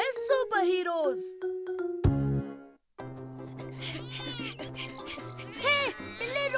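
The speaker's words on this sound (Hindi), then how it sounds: "हे बिल्ली, रुक जा" A cartoon cat meows in a children's animated show, several high, bending meows near the start and again later, mixed with a chime and bright background music.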